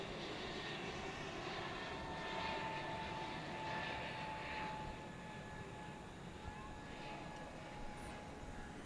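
Frontier Airlines airliner, flight 3999 bound for San Francisco with a bear painted on its tail, departing DFW at night: a steady, distant engine roar swelling and fading slightly across the span, with faint tonal whine and no talk.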